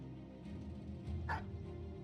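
One short bark from a dog in the medieval strategy game Battle Brothers, a single brief yip over a low steady game-music and ambient bed, moderately quiet.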